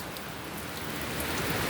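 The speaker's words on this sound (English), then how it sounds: "1 week now it's raining." Rain falls steadily as a dense, even hiss that fills the whole moment, close and fairly loud, with no voices or other sounds over it.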